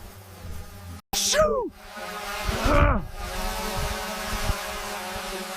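A small drone buzzes in the open mountain high country, its whine rising and sweeping past in two loud passes, with someone shouting briefly over it.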